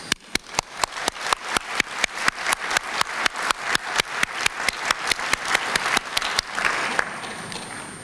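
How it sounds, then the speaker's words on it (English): Loud, dense applause from a conference audience welcoming new member states at an international general conference, with rhythmic synchronized clapping in steady regular beats that blurs into a looser wash near the end. "Let us give them a big applause"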